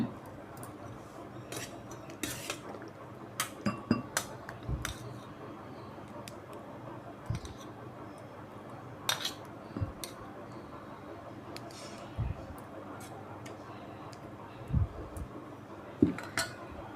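Cooked millet porridge scooped from a pressure cooker into a bowl, with sparse, irregular metallic clinks and taps of a utensil against the vessels spread over quiet background, close and fairly faint, no talking.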